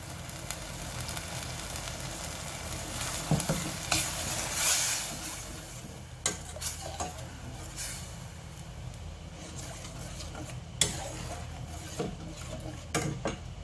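Thick boxed coconut milk is thinned with water in a pot for a Thai green shrimp curry, with steady stirring and liquid swishing, occasional utensil knocks against the pot, and a constant background wash.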